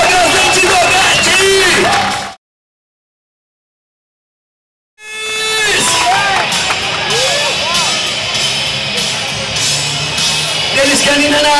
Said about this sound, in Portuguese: Super salva de palmas do Gazete Doguete.